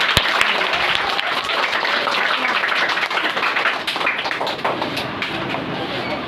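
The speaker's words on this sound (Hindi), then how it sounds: "ताली बजाइए सभी को।" An audience of children and adults at a general-knowledge quiz gives continuous, dense applause, with many hands clapping at once at a steady, loud level throughout.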